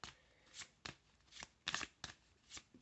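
Tarot cards are shuffled in quick, crisp riffling bursts, several in a row with short pauses, close and fairly quiet.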